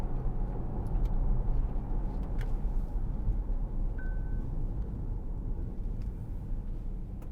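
A diesel Audi Q7 3.0 TDI S line quattro SUV with Tiptronic gearbox accelerates around a road bend, a steady low engine and road rumble heard from inside the cabin, with a few faint clicks and no talking.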